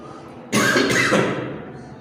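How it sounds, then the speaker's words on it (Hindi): A single loud, harsh cough bursts out close by and trails off over about a second and a half. "कुछ स्वास्थ्य गड़बड़ होने से खांसी का चक्कर है"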